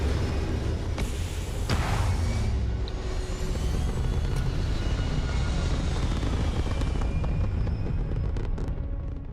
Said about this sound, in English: Let me take off. It's strange. All thrusters firing.